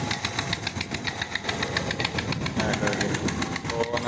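A tractor engine idles beside a tube well, a close, steady put-put of rapid, regular beats throughout.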